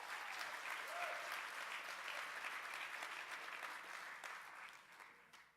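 Sustained applause from an audience at an event celebrating Black Canadian voices, a dense steady wash of many hands clapping that gradually thins and fades toward the end.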